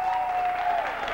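Wrestling crowd at a ring-side brawl applauding and cheering, a dense steady wash of clapping with a faint whistle-like tone running through it, continuous and fairly loud.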